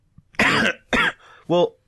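Several sharp coughs in quick succession from someone who is unwell, close and fairly loud, followed by a brief throat-clearing sound.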